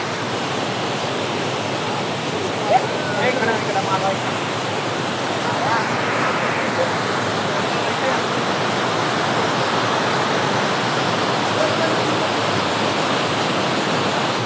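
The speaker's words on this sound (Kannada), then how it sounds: "ಈ ಥರ ಈ ಬೆಟ್ಟ ಗುಡ್ಡಗಳಿಂದ ನೀರು 40 ಫೀಟ್ ಆಳವಾದ ಒಂದು ಕೊಳ್ಳದಲ್ಲಿ ಬೀಳುತ್ತೆ" A waterfall roars in a dense, steady rush of water dropping into a pool about 40 feet deep at Amboli, loud and unbroken, with faint voices in the background.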